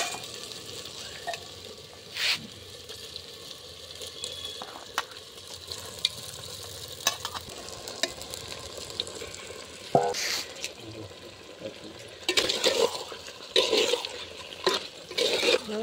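Duck meat sizzles as it is added to spiced oil in a pan and stirred, with steady frying crackle and intermittent louder scraping and stirring bursts, close up.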